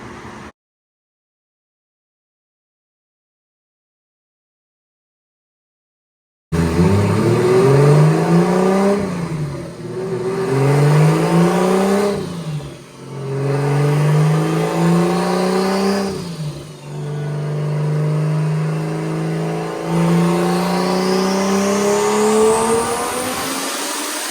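After several seconds of silence, a big single-turbo BMW E36 roars on a dyno, its engine sweeping up through repeated loud rev pulls with rising whine, held near and steady toward the end.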